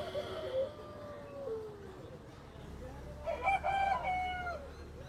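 At a chicken market, a rooster crows in long drawn-out calls early on, and another crow or cackle rises later over a low crowd murmur with brief voices.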